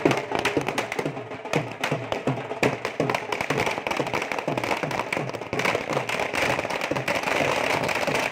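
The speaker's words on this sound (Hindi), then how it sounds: "दमों के घंटा घर पर पटाखे फोड़े गए" Firecrackers set off at a clock tower during a BJP election victory celebration, a dense run of sharp cracks and pops that continue steadily throughout, loud and close with crowd noise underneath.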